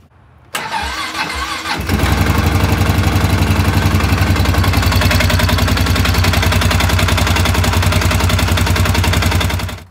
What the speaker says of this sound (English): once we've let it run for about 30 seconds, we're going to shut her off and check her oil again.